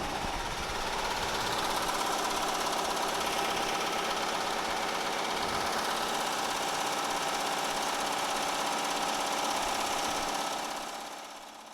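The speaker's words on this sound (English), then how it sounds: "We're almost done with sewing." An embroidery machine stitching a bucket hat runs steadily and loudly throughout, a continuous mechanical hum with rapid needle chatter that fades slightly at the very end.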